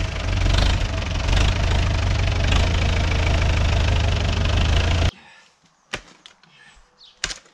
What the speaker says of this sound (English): running the tractor through